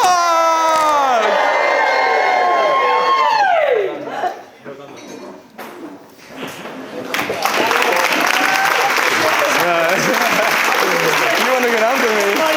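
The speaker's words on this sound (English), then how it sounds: "let's hear a big cheer for the new Mr. and Mrs. Clark!" Wedding guests cheer and clap loudly for the newly married couple, a sustained crowd roar of applause and shouts rising after an amplified voice speaks over music and laughter.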